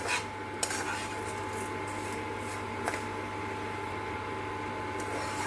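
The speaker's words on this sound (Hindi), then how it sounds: "लगातार चलाते हुए हम इसको लाइट ब्राउन होने तक के इसको हम भून लेंगे" Vermicelli roasting in a pan is stirred continuously toward light brown, giving a soft, close scraping and rubbing with a few sharper utensil clicks over a steady low hum.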